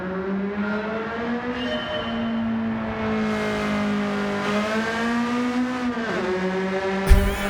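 A Honda car with an aftermarket exhaust revs loudly in Gran Turismo 7, pitch climbing and dipping through gear changes, ending in a sharp bang-like burst from the exhaust.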